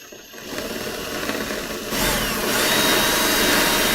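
A power drill bores a 1/4 inch hole through a circle cutting jig, its whir rising to a louder, steady grinding buzz partway through.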